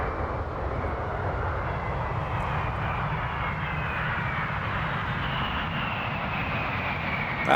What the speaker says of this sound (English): Watch him when he lands. Watch those reversers come on.